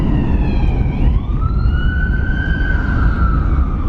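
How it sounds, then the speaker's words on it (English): An emergency siren wails close by, its pitch dipping and then rising into a long, steady tone over a low rumble of traffic. "I've heard so many sirens tonight."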